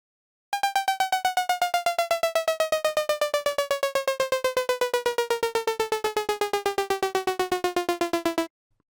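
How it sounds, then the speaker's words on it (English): A buzzy wavetable synth note stutters in rapid, steady pulses from a pitch LFO while its pitch glides slowly downward over several seconds, then stops abruptly. "adding another LFO to the coarse pitch on a different rate"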